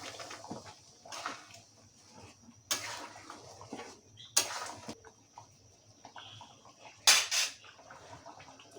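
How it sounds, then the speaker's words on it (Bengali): Meat curry with broth is stirred in a cooking pot, giving several sharp, separate metal clinks and scrapes spaced a second or two apart over a quiet background of soft liquid movement. "ঝোলের পানি দিয়ে একটু নাড়িয়ে চাড়িয়ে নেব।"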